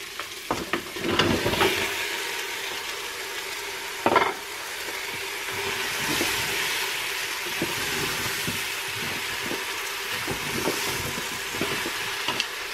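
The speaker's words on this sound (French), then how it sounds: "J'ajoute donc les fleurettes de chou-fleur." Cauliflower florets sizzle and crackle steadily in a hot pan, with a couple of louder stirring scrapes and clatters near the start, a continuous close frying hiss throughout.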